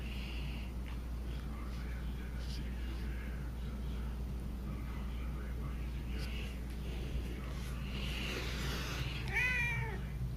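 A house cat meows in the morning, begging for food. Faint meows come over a steady low hum, and a clearer, rising meow arrives near the end.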